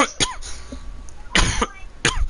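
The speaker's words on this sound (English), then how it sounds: "Me just coughing." A person coughs three times in sharp separate bursts, close to the microphone and spaced about a second apart, with quiet room noise between.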